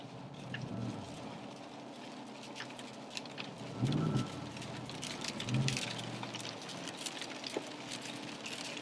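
Rain falls outside a car on the road, a steady soft hiss of drops with a few low muffled thumps scattered through it. No voices are heard.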